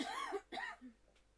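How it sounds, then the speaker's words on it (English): A woman's cough in a recorded thank-you message from the video game Chrono Cross, two quick close hacks followed by a smaller throat-clearing sound, all over within a second and a half. "Coughing into her thank you message."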